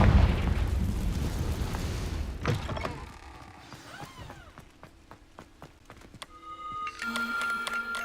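A Confringo blasting spell in Hogwarts Legacy goes off with a loud rumbling burst that fades over a couple of seconds, followed by game sounds, sparkly magical tones and scattered clicks.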